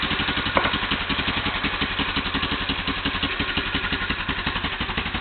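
A Yamaha Big Bear ATV engine runs steadily at idle, a continuous close, loud, slightly rough chugging with a rapid even pulse and no voices throughout.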